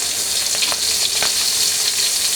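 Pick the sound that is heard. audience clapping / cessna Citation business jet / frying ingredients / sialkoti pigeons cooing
frying ingredients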